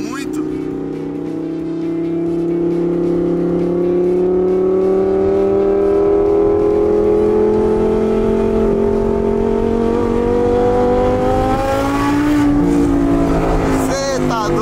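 A Lamborghini on a track accelerates hard, its engine note climbing steadily through the gears for several seconds before a shift and renewed rise, loud and close.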